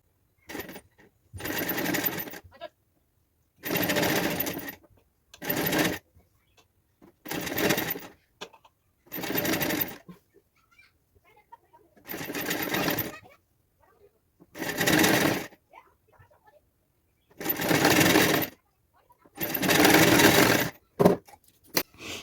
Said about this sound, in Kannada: ಸ್ವಲ್ಪ ಸ್ವಲ್ಪನೇ ಈ ಥರ ಇಟ್ಕೊತ ನಿಧಾನಕ್ಕೆ ಸ್ಟಿಚ್ ಹಾಕ್ತಾ ಹೋಗಿ